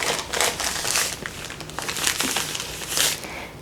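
Plastic bag of flour being folded over ahead of vacuum sealing, giving steady close crinkling and crumpling with several louder bursts across a few seconds, no voices.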